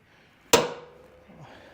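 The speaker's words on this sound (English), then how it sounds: "Before we start drilling, I'm gonna center punch these holes." A center punch strikes metal on an old Ford F150 before drilling: a single sharp metallic tap rings out close by, followed by a short fading ring and a faint shuffle.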